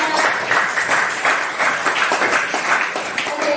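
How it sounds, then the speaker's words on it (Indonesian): A small group claps together during a teacher coaching session, loud close bursts of applause in a pulsing, somewhat rhythmic pattern. "dia beri tepuk tangan untuk kita semuanya"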